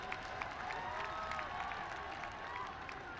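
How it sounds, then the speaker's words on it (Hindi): A large crowd at a Dussehra gathering with the prime minister applauds and cheers, a steady, dense wash of clapping and voices heard from a distance, somewhat faint but continuous. "एक बार जोरदार तालियों के साथ अभिनंदन।"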